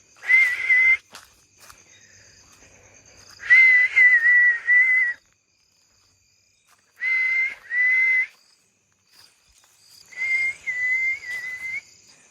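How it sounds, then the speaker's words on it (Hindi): A person whistles in a graveyard at night, sounding repeated sustained high-pitched notes in four separate bursts with long silent gaps between them, close and clear against a quiet background. "अभी एक एक कर थोड़ा बहुत राउंड लेते हैं और सीटी बजाते हैं।"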